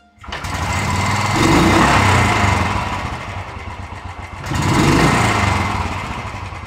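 Royal Enfield motorcycle engine running after a kick start, a close, loud rattling thump that builds up, eases back, then surges again in a second rev.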